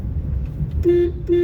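Two short car horn honks, the second after a brief pause, sound close over the low rumble of an idling engine.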